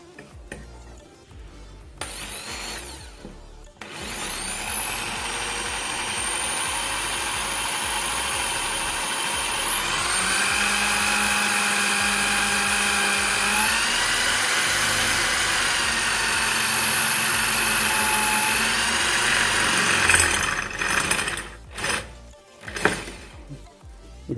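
A Black & Decker KR554RE drill machine spins up and drills a hole at maximum speed with a small bit, a loud, close, sustained whine with a shifting pitch for about sixteen seconds, then stops amid brief clicks and handling noises.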